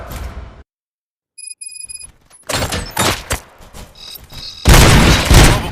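Gunfire in the video game RoboCop: Rogue City comes as sharp, loud bursts and thuds after a short silence and a few electronic beeps, with the heaviest volley at the end.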